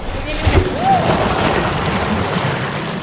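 Artificial waves rolling and breaking in a resort wave pool at Xcaret, Mexico, a steady close wash of churning water with wind noise across the microphone and no speech.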